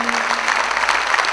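An audience at a Jain religious ceremony in Madawara claps loudly in a dense, continuous burst of applause lasting just over a second.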